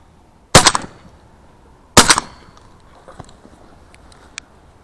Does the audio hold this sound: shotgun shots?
yes